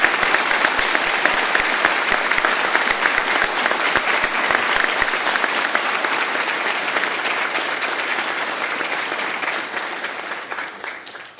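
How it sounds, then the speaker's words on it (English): Sustained audience applause at a fire academy graduation ceremony, a loud dense crowd of clapping hands continuing steadily for over ten seconds before easing off. "Please join me in a round of applause."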